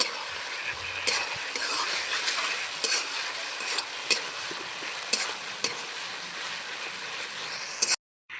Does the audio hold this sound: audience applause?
no